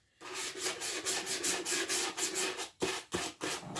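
Sandpaper rubs back and forth across a wooden handmade gift in steady rhythmic strokes, close and fairly quiet, each pass a soft rasping swish with brief pauses near the end.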